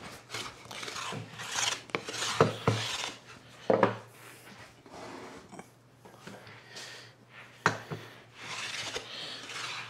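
A tuned wooden hand plane skims the top of a waxed, uneven board in repeated rasping strokes, each pass a short scraping whoosh separated by brief pauses, close and fairly loud.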